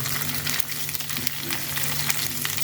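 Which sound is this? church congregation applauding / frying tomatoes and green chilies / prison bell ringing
frying tomatoes and green chilies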